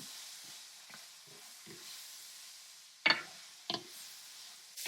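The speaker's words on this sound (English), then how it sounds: "2 teaspoons of my taco seasoning on this meat and mix that in." Ground meat being stirred with taco seasoning in a pan, giving soft scraping and stirring strokes over a faint sizzle, with two sharper clanks of the utensil near the end.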